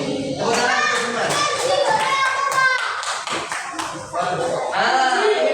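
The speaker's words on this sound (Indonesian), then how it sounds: "Tepuk tangan untuk" Children clap their hands together in a quick, rhythmic pattern in a classroom, close and lively, while young voices chant and talk over the claps.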